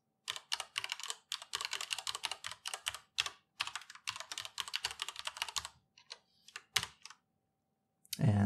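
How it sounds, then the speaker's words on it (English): Quick bursts of keystrokes on a computer keyboard while user details are entered, a steady close-up clatter that pauses briefly near the end before a final thump. "you start to type in your user details"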